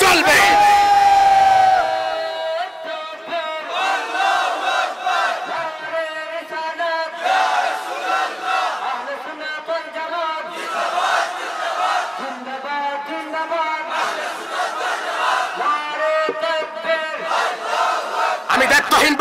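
A large crowd at a religious gathering chants the Nara-e-Risalat slogan in loud unison, rising and falling in repeated shouted phrases over nearly twenty seconds, with a lead voice calling out at the start.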